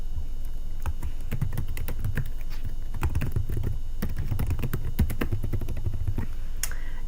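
Typing on a computer keyboard: close, crisp key clicks in quick irregular bursts with short pauses, steady throughout and with no talking over them.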